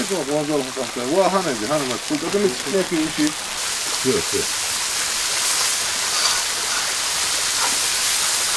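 Slices of kurduk, lamb tail fat, sizzle on a hot rock outdoors in the mountains of Azerbaijan, a steady broadband hiss that takes over after a few seconds of talking and runs on loud and even.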